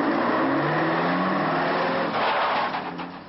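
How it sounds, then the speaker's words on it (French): A DAF racing truck accelerates hard on a fast rally stage, its engine roaring loudly and climbing in pitch, then fading slightly as it pulls away. "Il marche très fort, c'est vrai, le camion de De Rooij"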